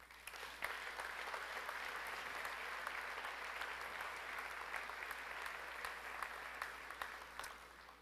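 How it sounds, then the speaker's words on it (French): Sustained applause from an audience at a mayor's dinner in Victoriaville, a dense, steady clatter of many hands lasting throughout without a break and with no talking. "je pense que vous pouvez vous donner une bonne main d'applaudissement"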